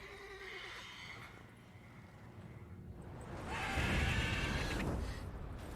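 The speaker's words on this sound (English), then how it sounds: "Worthy of the best horse. The mare is yours." In The Witcher 3, a mare whinnies and snorts near the start, then hooves thud and clatter loudly in a burst toward the end over a low ambient rumble.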